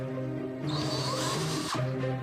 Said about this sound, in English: he starts by trying to unscrew the brackets using the wrong kind of drill bit